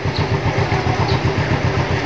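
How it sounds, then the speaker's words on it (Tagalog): A motorcycle engine idles steadily and fairly loud, a rapid even low-pitched putter running through the whole stretch with no talk over it, heard from a passenger seat near a school. "ako ay nakaangkas na dito sa motor."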